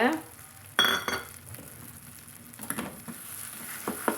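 Drumsticks sauté in a pan with a soft sizzle, broken by a few scraping, clattering stirs, close and fairly quiet.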